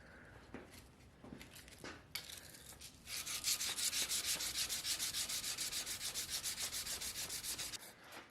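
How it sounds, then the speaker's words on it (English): A knife spine is sanded by hand with 500 grit sandpaper on a hard backer: a few scattered rubs, then a run of quick, even back-and-forth scratching strokes, close but fairly soft, with no talking. "Now I'm in here with my 500 grit and I'm just further cleaning up this spine"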